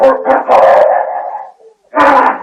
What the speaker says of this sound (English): You hear that, Duke? The dogs have got the shadow